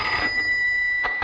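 An old telephone rings at a railway station office, a steady electric bell tone held for about a second, followed by two short bursts, close and clear.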